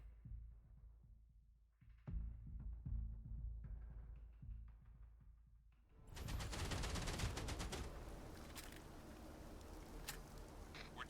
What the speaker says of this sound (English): Every time I hear the turrets kick off.